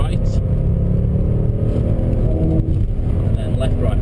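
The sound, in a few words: Jaguar XJR575 engine downshifting to third gear on track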